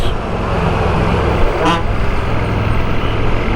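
Steady road traffic on a route slowed by road construction, with a broad continuous rumble of engines, a brief horn toot near the middle and no voices.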